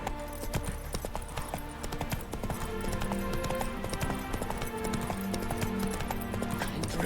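A horse gallops in the video game Witcher 3, its hooves drumming in a fast, steady clip-clop rhythm that stays close and loud over a continuous game soundscape, with no speech.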